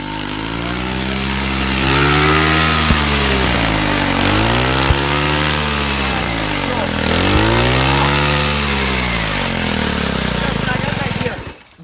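A pit bike engine with a stuck throttle screams at high revs, close and loud, its pitch rising and falling in repeated swells for several seconds before cutting off abruptly.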